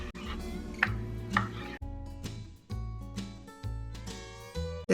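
A knife slices thinly through rump roast beef on a board, giving a few soft cutting taps up front while loud tonal background music dominates most of the passage; no one speaks.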